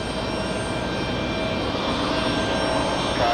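A jet airliner arriving at JFK airport from London Heathrow gives off a steady, loud engine roar that swells slightly toward the end, with no voices.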